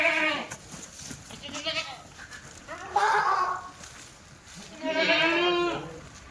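Hungry Kathiawari dairy goats bleat loudly and close by, four separate wavering calls spaced a second or two apart.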